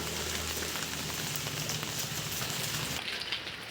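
Steady, dense rain hisses continuously, a broad wash of patter with no breaks or voices.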